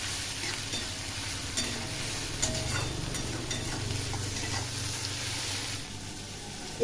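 Tomatoes, garlic and ginger fry in a pan already holding green chilies, giving a steady, close sizzle with scraping stirs throughout and no voices.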